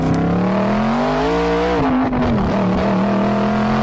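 A 4.7-litre V8 in an Aston Martin Cygnet revs steadily, a loud, close engine note rising and falling in pitch with no talk over it.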